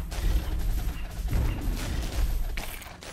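A barrage attack in Gemcraft Frostborn Wrath: a dense, continuous rumble of overlapping thuds and crackling impacts, loud and steady throughout the short burst with no talk.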